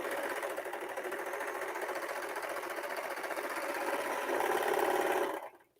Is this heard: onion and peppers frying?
no